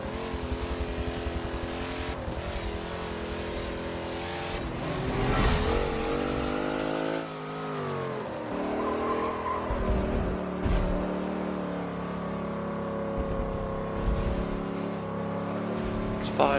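Race car engines drone and rev through a race in Forza Motorsport 7, with shifting pitch as the cars accelerate, a brief squeal of tires and continuous loud motor noise throughout.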